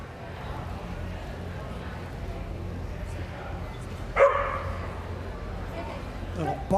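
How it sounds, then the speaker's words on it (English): A Vizsla in the 20-inch class at the Westminster Kennel Club Masters Agility Championship gives a single short, sharp bark partway through, heard over crowd ambience and an announcer's commentary. "Little bark there, and off they go."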